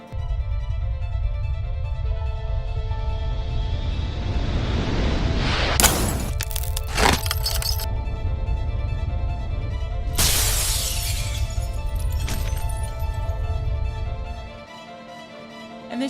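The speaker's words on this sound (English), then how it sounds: "And things started shattering." Glass and household objects shatter and crash at home during earthquake shaking, with sharp loud breaking bursts over a continuous heavy rumble before the noise drops away.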